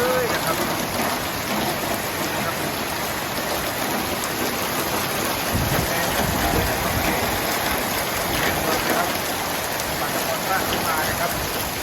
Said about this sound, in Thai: ฝนตกแรงมากเลยนะครับ